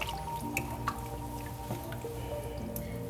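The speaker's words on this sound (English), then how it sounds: "I have to add some water too." Water pours into a cooking pot for a vegan rice and tikka masala dish, a steady close trickle and splash with light dripping over a constant background hum, no talk.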